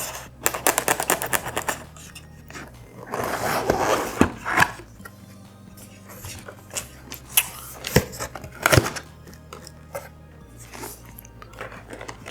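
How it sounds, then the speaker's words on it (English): Sharp cutting and tearing sounds on the cardboard box tabs of a Logitech K780 keyboard package come in irregular bursts, with crunchy snips and rustling close by. "So we'll cut the two tabs here."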